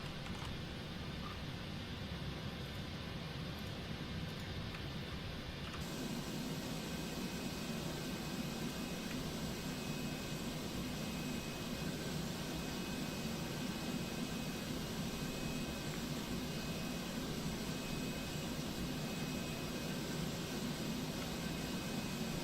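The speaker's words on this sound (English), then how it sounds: "We are hooked up, and we can begin pushback." A PMDG 747 being pushed back with GSX in the Prepar3D flight simulator, a steady loud engine and airflow drone with a constant broadband roar, shifting to a deeper rumble partway through.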